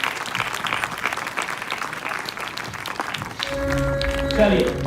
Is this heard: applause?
yes